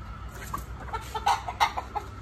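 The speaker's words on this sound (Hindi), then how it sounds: "तो अब सारी मुर्गियाँ इधर आ गई" Backyard hens being herded into their coop give a series of soft, close clucks and short calls over a steady low hum, irregular and fairly quiet.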